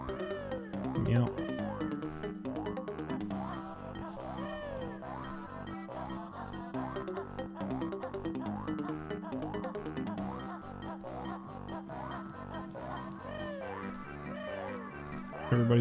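Video game Pokémon meowing in Pokémon Snap, a run of repeated cat-like cries layered over a busy, melodic game soundtrack, moderately loud and continuous throughout.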